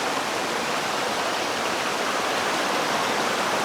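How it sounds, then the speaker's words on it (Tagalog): River water rushes steadily at a river crossing on a trek to Three Falls in Santa Maria, Laguna, a dense broadband roar of flowing water heard close by and loud throughout. "May river crossing nga."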